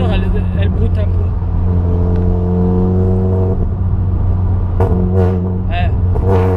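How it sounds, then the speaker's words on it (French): A car's engine in Japan judders under light pressure on the accelerator, giving a steady, close, low droning rumble with a slightly uneven, shuddering pulse throughout. "Quand j'appuie un petit peu à l'accélérateur, elle broute un peu."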